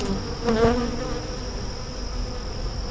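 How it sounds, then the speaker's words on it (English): A close, dense hum of honey bees buzzing steadily around a hive beset by robbing, with one insect droning loudly past for a moment. "it's loaded with bees"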